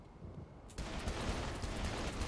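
Gunfire in the game Saints Row 3 erupts abruptly after a quieter opening, then continues as a dense, loud barrage of shots to the end, no voices over it.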